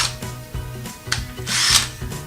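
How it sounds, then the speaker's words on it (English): A power drill bores out a hole in steampunk floor lamp hardware, its motor whining in short rhythmic bursts up close, with grinding rasps as the bit bites. "we're going to take our drill"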